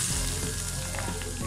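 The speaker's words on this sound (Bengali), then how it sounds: "গরম তেল দিয়ে দিচ্ছি, একদম গরম তেল" Very hot oil poured over chicken momo filling sets off a loud, dense sizzle that hisses steadily and close for the whole moment, with no voices.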